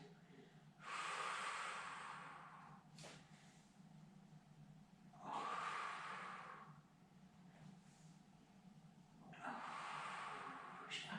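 A person takes deep, slow breaths during a Pilates exercise, three long airy inhale-exhale bursts spaced a few seconds apart, close and clear with no talking.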